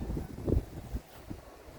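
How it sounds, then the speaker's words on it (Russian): Wind at a lake campsite gusts against the microphone in low, uneven rumbling buffets, strongest in a brief burst and then easing to a softer blow. "Опять ветер."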